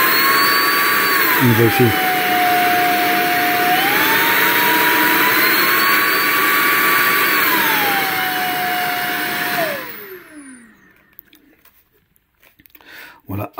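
A FABULETTA 6-in-1 cordless stick vacuum cleaner runs with a loud whine that steps between speed settings, then winds down and stops near the end; a voice speaks briefly at the start, with a few small clicks after shutoff.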